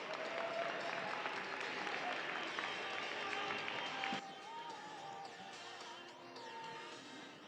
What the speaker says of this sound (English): Can we please have a round of applause for Alliance 6